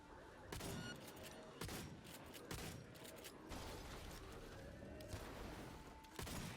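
Gunfire in Apex Legends, played on an RTX 3060 12GB build: sharp, loud shots crack out at irregular intervals over a busy, rumbling firefight.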